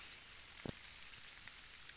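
Faint, even patter of light rain hisses steadily, with one brief soft knock near the start.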